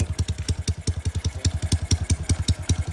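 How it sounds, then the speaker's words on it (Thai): A Honda Dream motorcycle with a racing exhaust idles close by in a loud, steady, rapid thumping pulse, about eight beats a second, with a faint mechanical clatter and no voices. "เดี๋ยวเดินเบาฟังเสียงเดินเบาทุกคน"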